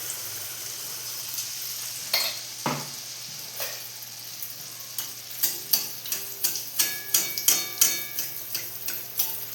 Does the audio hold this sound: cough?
no